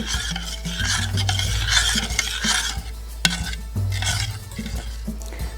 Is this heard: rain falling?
no